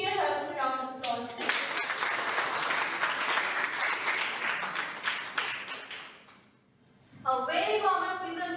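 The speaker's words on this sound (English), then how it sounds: "Please cheer her with a round of applause." Audience applause at an inter-school English elocution contest, a steady crowd of many hands clapping for about five seconds and then fading, with a voice speaking before and after.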